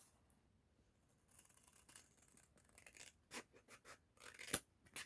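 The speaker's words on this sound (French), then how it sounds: "Maintenant, on aura besoin de la paire de ciseaux." Scissors snip through paper while a homemade paper notebook is made, giving several quiet, separate crisp cuts and rustles that grow louder toward the end, with one sharp snap near the close and no voices.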